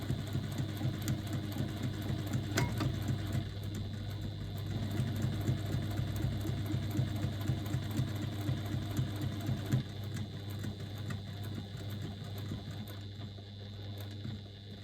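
Sewing machine back stitching a few stitches at the corner of a bag panel, a steady close mechanical whirr with a rapid needle rhythm running unbroken throughout, slightly easing near the end.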